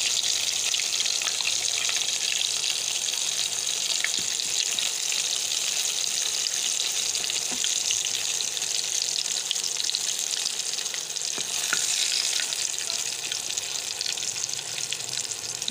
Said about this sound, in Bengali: মাছের মাথাটা আর একটু ভাজবো